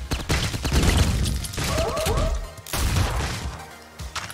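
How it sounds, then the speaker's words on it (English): Chaotic gunfire in the top-down game Streets of Rogue, with dense rapid shots, crashes and impacts crowding together, loud and close throughout. "I can see bullets flying people running in fear"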